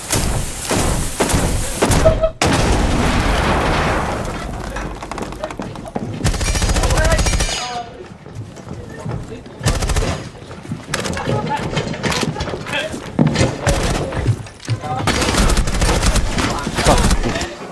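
Grenade explosions and rapid gunfire from the zombie-survival video game Dead Island 2 hit loudly and repeatedly as heavy bursts, thuds and sustained fusillades, with brief gaps of quieter play between them.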